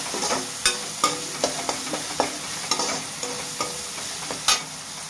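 Onions frying in a pan with salt, stirred in a raw banana curry, giving a steady sizzle under a dozen or so sharp scraping clicks from a spatula at an uneven rhythm, close and fairly loud, with no talking.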